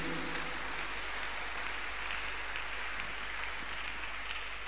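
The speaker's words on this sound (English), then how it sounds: "I want to also appreciate this God by clapping our hands unto him" A church congregation claps in praise to God during a Tuesday miracle service, a steady, dense wash of many hands sustained evenly throughout with no pauses.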